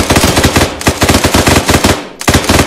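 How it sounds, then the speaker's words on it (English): Dense automatic gunfire from an Arma 3 military combat game, loud sustained bursts that fill most of the stretch, with a brief lull before the firing resumes. "Shooting over your head."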